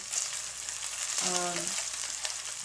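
Ground pork for spring rolls frying in its own rendered fat, giving a steady, moderately loud sizzle throughout, with a brief tonal sound partway through.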